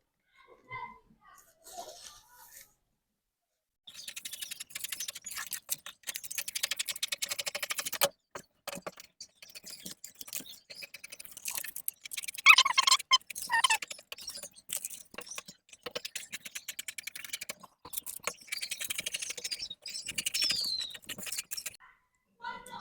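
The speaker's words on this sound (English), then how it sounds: "So I'll just quickly go ahead and cut this. I'll go ahead and cut it out." Scissors cut out a paper bodice pattern close by in a quiet room, with intermittent crisp snipping and rustling paper in short bursts and pauses.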